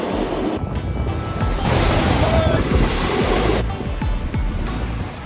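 Ocean waves crash and surge close by at San Sebastián, Spain, a broad roaring wash of surf swelling and fading, mixed with gusty wind noise.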